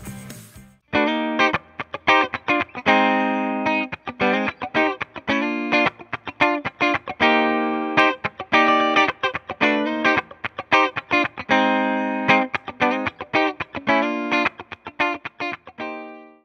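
An electric guitar through a Fender compressor effects pedal plays loud, chopped rhythmic chords with an even, squeezed sustain, strums and muted stops repeating steadily throughout.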